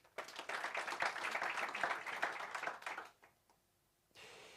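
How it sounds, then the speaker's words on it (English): A round of applause at an athletics road-running press conference, a dense spell of clapping from a modest audience lasting about three seconds before it fades into the quiet of the room. "Please give a warm round of applause to Morena John Matane."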